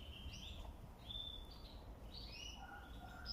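Aviary birds chirp while pecking at soil from beneath a cypress tree, with several short, clear tweets and whistles overlapping close by over a soft low background rumble.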